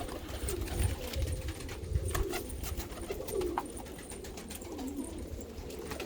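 Dutch yellow pigeons coo softly and repeatedly in a loft, low rolling calls overlapping each other against faint background rustle and scattered clicks.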